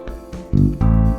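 A bass line rises from G up to A: a short note is followed by two louder sustained low tones, played alone without talk.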